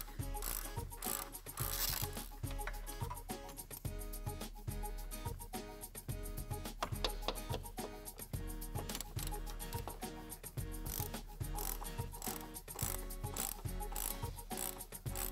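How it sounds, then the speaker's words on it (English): A ratchet wrench loosens the upper mount bolts of a Porsche Cayenne air strut, clicking rapidly and continuously at close range throughout, with steady rhythmic pawl ticks and no pauses. "Remove the three mounting bolts that secure the air strut's upper mount."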